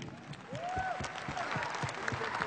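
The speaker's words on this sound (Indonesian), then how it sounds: "Kita beri tepukan gemuruh untuk Didi VIP." Applause at a Malaysian awards ceremony, moderately faint steady clapping from a crowd with a whistle-like tone gliding over it, continuing evenly throughout.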